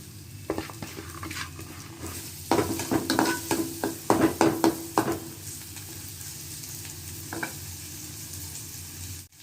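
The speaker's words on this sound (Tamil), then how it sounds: "ஒரு கைப்பிடி சாம்பார் வெங்காயங்க, கைப்பிடிக்கு அதிகமாகவே தான் இருக்குது. அதில் போட்டு நம்ம வதக்கணும்" Sambar onions (shallots) sauté in hot oil in a pan, with a steady sizzle throughout and a cluster of clattering stirring scrapes in the middle.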